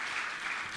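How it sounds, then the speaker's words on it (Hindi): Audience at a Jain religious gathering with Muni Shri Praman Sagar in Guwahati claps steadily to honour guests, a dense, even wash of applause throughout. "आप जोरदार ताली बजाकर इनका सम्मान करें"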